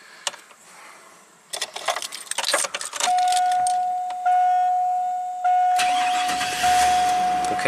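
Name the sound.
GM Chevy V8 engine cranking and starting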